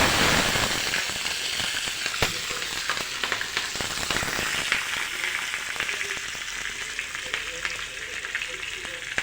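Peanuts, chillies and garlic sizzle and crackle loudly in hot oil for lemon rice, a continuous close fry with sharp pops and spits scattered throughout.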